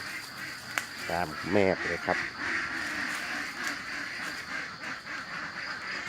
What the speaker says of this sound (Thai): เป็ดตื่นมาทักทายเราแต่เช้าเลยนะครับ